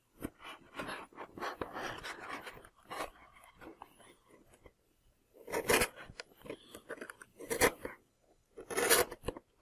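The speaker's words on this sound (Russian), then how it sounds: "и затягиваем скотчем." Adhesive tape is pulled and pressed along a joint of a Nyrok Next 1300 model seaplane fuselage. Close rustling and rubbing give way to three sharp, loud tearing rips near the end.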